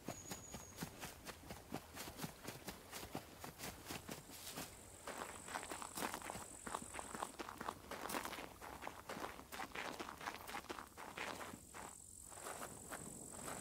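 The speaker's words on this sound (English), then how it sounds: "I hear footsteps" Footsteps in the survival video game SCUM run steadily and rhythmically, a quick even series of crunching steps at moderate, fairly close loudness. Nobody talks over them.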